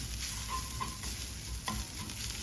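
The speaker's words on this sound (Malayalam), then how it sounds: "അര ടീസ്പൂൺ മഞ്ഞൾപ്പൊടി ഇത് നന്നായിട്ടൊന്ന് മൂപ്പിച്ച് നോക്കാം" Turmeric and coriander powder fry in hot oil in a pan for an aloo gobi dry curry, making a close, steady sizzle broken by a few scraping stirs of a spoon.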